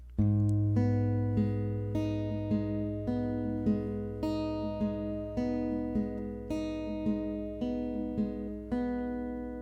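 Acoustic guitar picking pattern for the worship song The Blessing, played slowly: a low bass string struck on each beat with single treble notes ringing between, evenly spaced and close, solo with no voice.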